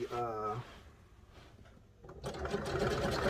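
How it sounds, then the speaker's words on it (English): A voice speaks briefly, then a sewing machine starts up nearby, stitching a pair of trousers with a steady, rapid whirring hum. "Hopefully you guys can hear me over the sewing machine."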